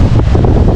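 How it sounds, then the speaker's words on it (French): Wind buffets the microphone on a sailboat deck in a 15-knot crosswind on a calm sea off the Camargue, a brief, loud, low rumbling gust with no voices. "Bon là vous allez entendre le vent, forcément je vais devant"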